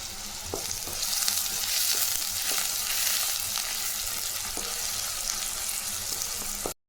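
Onions and curry leaves, with crushed garlic, frying in a pan for dried fish thokku, a continuous bright sizzle up close with faint light taps and stirs, cutting off abruptly at the end.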